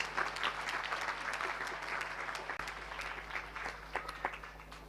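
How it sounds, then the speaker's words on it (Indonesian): An audience at an Islamic boarding school gathering claps steadily, a dense patter of many hands held at a moderate, even level before gradually thinning, with no voices over it. "Tepuk tangan untuk beliau."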